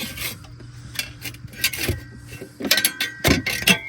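Metal rasping and scraping as a rear main seal is pried off its dowel pin on a BMW E36 318i with the M42 engine, close-up irregular scrapes and clicks with a few sharper metallic knocks.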